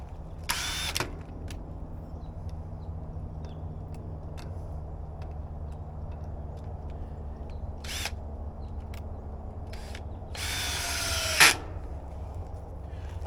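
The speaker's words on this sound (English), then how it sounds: "when you have a drill, it's always good to have a battery drill" A battery drill drives screws into a wooden raised bed frame in several short bursts, the last one longest and loudest, over a steady low background hum.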